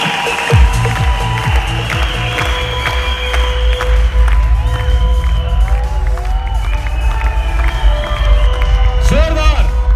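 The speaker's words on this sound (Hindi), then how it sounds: "जोरदार तालियां एक बार इन लोगों के लिए।" Loud indoor crowd clapping and cheering for honorees at a gathering, a dense continuous roar of hands and shouts with music or tones and speech mixed in throughout.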